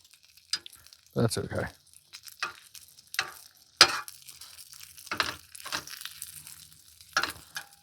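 Pierogies and sausage frying in a pan at a campsite, with scattered crackling sizzles and scraping stirs in irregular bursts while a voice speaks briefly.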